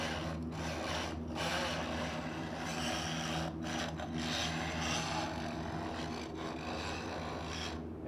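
An oscillating multi-tool blade removes grout between tiles on a careful second pass at modest speed, giving a steady, close rasping buzz with repeated brief scraping bursts as the blade is twisted gently along the joint.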